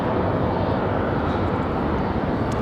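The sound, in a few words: Boeing 737-700 airliner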